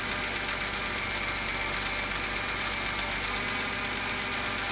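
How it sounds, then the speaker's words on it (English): A BMW 328i E90 with a swapped-in N52 engine idles steadily up close, its power steering pump adding a noisy whine over the even engine drone, with no talking. "that's the power steering pump making a lot of noise"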